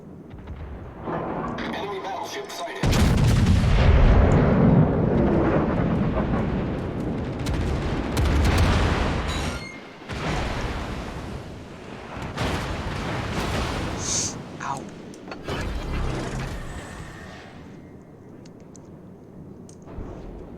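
Heavy naval gunfire from an Italian battleship in World of Warships, with loud deep booming salvos and rumbling blasts repeating across the stretch, and game voice callouts mixed in.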